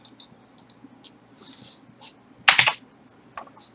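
Keys on a computer keyboard click in scattered, irregular taps, with a quick cluster of louder strikes midway, close and crisp in an otherwise quiet room.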